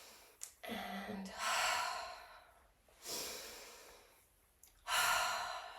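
Slow, audible breaths during seated yoga, three long breathy swells of inhaling and exhaling spaced a couple of seconds apart, close and fairly quiet, with a soft gasp near the start and no talking.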